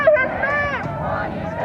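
A protest march crowd chants in unison on the street, a loud rhythmic mass of voices near the listener with ragged babble underneath.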